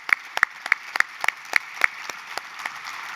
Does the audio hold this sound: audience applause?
yes